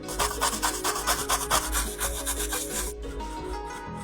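A badly water-damaged laptop motherboard is scrubbed clean in quick rhythmic brushing strokes, a close scratchy rubbing that stops near the end, leaving a quieter background with no talk.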